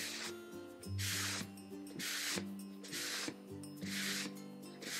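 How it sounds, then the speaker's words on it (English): A lint-free cloth wipes excess chalk paint off a painted surface in several broad, hissing rubbing strokes, fairly close and steady, with low background music underneath and no voices. "And just kinda wipe it a little bit just to get the excess off."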